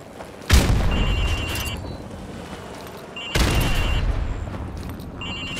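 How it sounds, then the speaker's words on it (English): Two grenade explosions in Call of Duty: Modern Warfare Remastered, each a sharp loud boom followed by a rumbling debris tail, spaced about three seconds apart. "Now throw a grenade into windows 2,"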